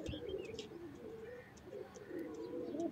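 Pigeons kept for sale cooing nearby, soft repeated throaty coos in a low rolling rhythm with a few faint chirps over them, and no talking.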